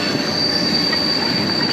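A CSX SD40-2 diesel locomotive train rolls past in Mobile, Alabama, its wheels squealing in a sustained high metallic whine over a steady, loud rumble of rail cars, close by with no talk.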